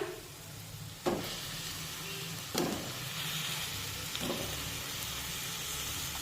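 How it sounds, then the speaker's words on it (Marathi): Drumstick pods being sautéed in a cooked masala for a shevgyachi sheng rassa bhaji give off a steady, moderate sizzle, with three sharp clatters of stirring spaced through it. "परतून घेऊया शेंगा मसाल्यामध्ये"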